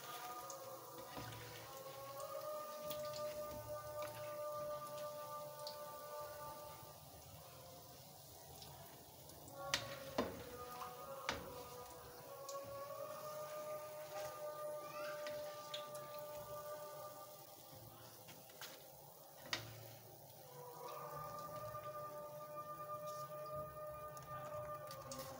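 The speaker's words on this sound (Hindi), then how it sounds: "आप थोड़ी देर अजान सुन लें" A faint, distant Islamic call to prayer drifts in while someone makes donuts in a home kitchen. Long sustained melodic phrases rise and fall over a low background hum, broken by a few sharp clicks.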